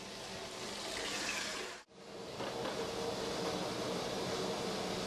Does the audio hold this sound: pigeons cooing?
no